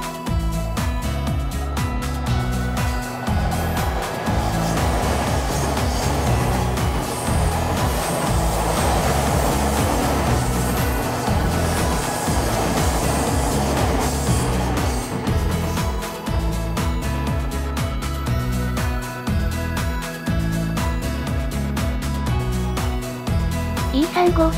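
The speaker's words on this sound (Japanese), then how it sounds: "黄色の総武線が、代々木駅を出発して、" A yellow Sobu Line commuter train runs past near Yoyogi in Shinjuku, a steady loud rumble of wheels and motors rolling along the track for the whole stretch, with city ambience mixed in.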